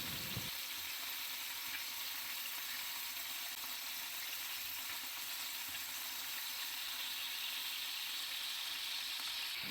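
Chicken thigh steak frying in a pan with garlic butter, giving a steady, even sizzle with a soft crackle that runs unbroken throughout, fairly quiet and close.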